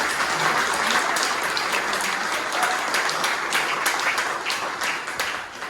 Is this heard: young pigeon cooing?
no